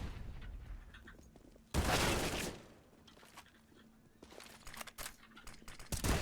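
Gunfire in a competitive Counter-Strike: Global Offensive match, with a loud sustained burst of shots followed by scattered quieter shots, footsteps and game noise.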